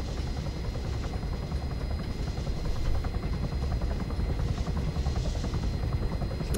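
A helicopter in the video game Arma 3 thrums with a steady, loud, fast rotor chop, continuous and close throughout, with no talk heard.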